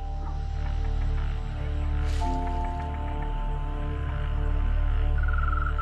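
Wild frogs in Taiwanese forest, heard as a steady layered chorus of tonal croaks and trills with a hum beneath, joined midway by extra overlapping calls and a brief rustle, no voices.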